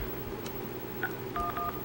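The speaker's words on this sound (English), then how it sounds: "I'm going to start out by dialing 611" DTMF keypad tones dialing 611 on a BlackBerry Curve 8330 phone on the Cricket network, three short beeps close together over faint background hiss.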